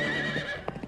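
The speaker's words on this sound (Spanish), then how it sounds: "¡Estúpido caballo!" A horse whinnies in a brief, close, high wavering neigh, joined by a couple of short snorting or hoof sounds near the end, with no talking.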